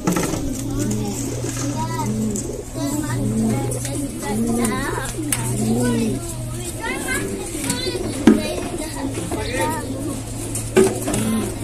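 A large male red chequer pigeon coos in repeated rounded, rhythmic calls close by, while a voice talks over them and other birds and children are faintly heard.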